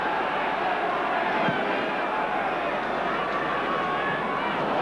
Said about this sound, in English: the crowd really have found their voice